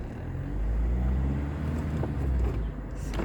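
A Citroën Evasion 2.0 HDi van with newly replaced rear drum brakes slows under braking on a road test, heard as a steady low cabin rumble of road and engine with no talking.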